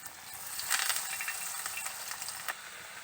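Potato cutlets just set into hot oil sizzle and crackle steadily, a dense, bright frying hiss with small pops, fairly close and uninterrupted by any voice.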